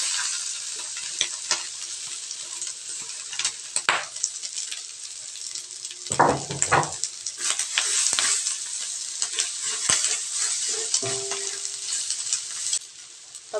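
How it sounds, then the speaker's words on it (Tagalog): Garlic sizzles in hot oil in a pan for Bicol Express, a steady bright frying hiss broken by close scrapes and knocks of stirring against the pan. "Ilalagay lang natin yung bawang."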